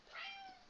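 A house cat gives a single short meow, a faint, drawn-out tonal cry heard alone in a quiet room.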